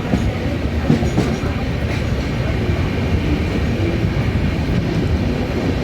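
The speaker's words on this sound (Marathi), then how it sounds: "चला तर आपली ट्रेन पण सुटली" A Jan Shatabdi passenger train on the Mumbai to Konkan line rolls steadily along the rails, its dense rumble and rhythmic clickety-clack loud and close throughout, with no voices.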